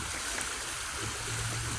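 Water flowing in Coldwater Creek, a steady broadband rush of moving creek water, continuous and even, at moderate level with no voices.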